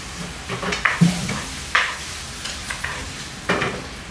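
Fried tofu stirred into sauce in a pan, close and clear: a series of spatula scrapes and knocks against the pan over a soft, steady sizzle.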